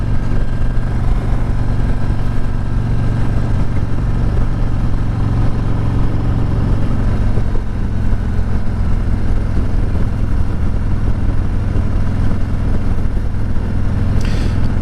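A 2024 Harley-Davidson Road King Special FLHRXS motorcycle runs steadily throughout, its engine and exhaust giving a continuous low, thin-sounding rumble heard up close with no voices.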